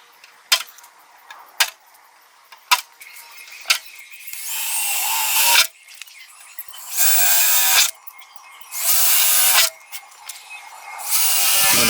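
Power drill boring holes through the rear hatch of a Subaru Crosstrek for a spoiler install, in several loud bursts with short taps between, nearby and with no talk.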